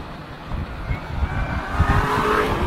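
A 2016 Chevrolet Corvette Z06 sliding sideways on a track with stability control off, engine roaring with a brief tire squeal, fairly close and loud throughout.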